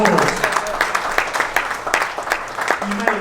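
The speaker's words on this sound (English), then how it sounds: "Incredible, it deserves a round of applause." Audience applause at a Formula 1 Mercedes experience event in Singapore, a moderate wash of many clapping hands heard under a presenter's talking, fairly even across the short stretch.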